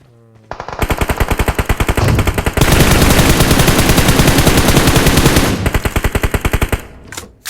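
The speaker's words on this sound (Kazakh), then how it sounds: "Арғы бетте Титаник жақта қанша оқ атты екен, интересно." Automatic gunfire in the mobile battle royale game PUBG Mobile rattles in long, rapid bursts, loud and close, with a brief gap before another sustained stream of shots.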